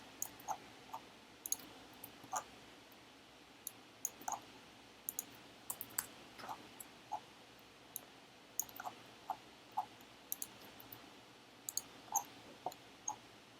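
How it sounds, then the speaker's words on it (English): Computer keyboard being typed on in short, irregular bursts of faint, crisp key clicks with pauses in between, heard alone in a quiet room. "I'll type in the test cases."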